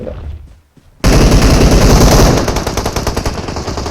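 Loud, sustained automatic gunfire from PUBG Mobile erupts after a brief lull, a dense rapid stream of shots that carries on with slight pulsing toward the end.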